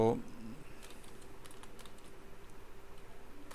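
Quiet, fast keypresses on a computer keyboard while writing text in MS Word, a steady pattering of clicks running through the whole stretch after a brief burst of voice at the start.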